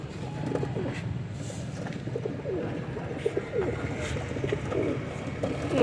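Pigeons coo softly and repeatedly over a low, busy background rumble, with a few faint chirps mixed in.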